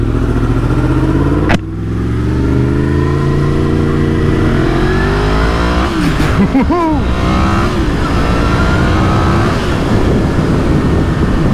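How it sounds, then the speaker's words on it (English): Yamaha FZ10/MT10 motorcycle engine roaring under hard acceleration in fourth gear, a loud close rising drone with gear-shift pitch sweeps and wind buffeting, rider's voice occasionally over it. "4th gear power wheelies at 50 miles an hour"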